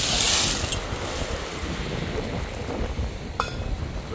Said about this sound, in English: Sometimes it's just nice to stop and listen to the waves for a little bit.